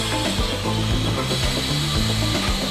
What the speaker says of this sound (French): Le même préhenseur pneumatique met en place les intercalaires carton entre chaque couche de savonnette ainsi que le couvercle sur les boîtes.